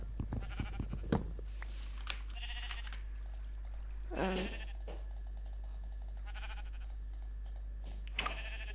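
Several Minecraft sheep bleats, wavering and nasal, come and go over a steady low hum, with occasional clicks and brief speech nearby.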